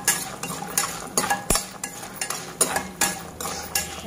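Black gram, peanuts and cashews frying in a pan for cashew upma, with a steady low sizzle broken by repeated clinks and scrapes of a spoon stirring against metal, close and fairly loud.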